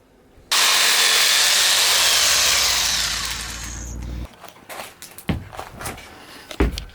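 A power saw rips through wooden ceiling planks for about four seconds, loud and steady, then cuts off into scattered knocks, handling clatter and footsteps.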